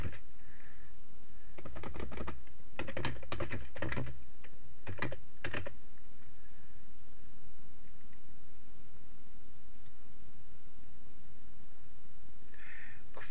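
Password typed on a computer keyboard, heard as several clustered bursts of close, crisp key clicks with pauses in between, then a brief final flurry of taps near the end.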